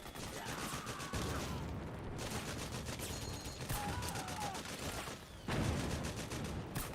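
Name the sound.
gunfire in the Metal Gear Solid 4 video game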